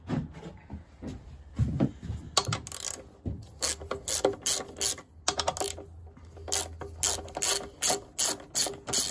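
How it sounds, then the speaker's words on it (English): A ratchet undoing the two bolts on a Royal Enfield Meteor 350 touring seat: close, repeated bursts of rapid clicking pawl ratchets with short pauses between strokes, and no talk. "Just get the ratchet on that."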